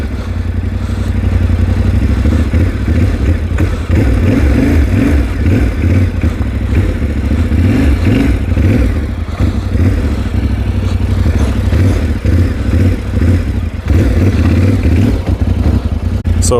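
A Yamaha T7 adventure motorcycle being ridden, its engine droning and revving loudly and continuously throughout with some rattling clatter, close to the rider.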